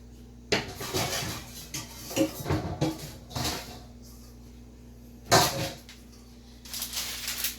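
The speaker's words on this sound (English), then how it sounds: "So I'm going to grab a bowl." Ceramic and metal clinks in a home kitchen while a bowl is grabbed for baking bread: a series of irregular knocks and clatters with a few sharper clanks, set against a steady low hum.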